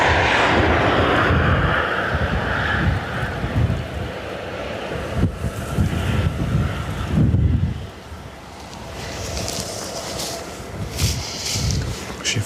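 A Qatar Airways airliner roars at Dublin Airport on a cold day, a loud, broad engine rumble with gusty wind buffeting the microphone, swelling and easing over several seconds with no talk.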